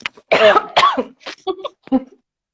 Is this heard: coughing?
yes